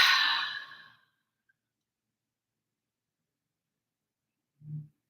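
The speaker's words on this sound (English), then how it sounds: "Exhale out." A single long, breathy exhale released after a held deep breath in a guided meditation, close and clear, fading out within a second, followed by silence and a faint low thump near the end.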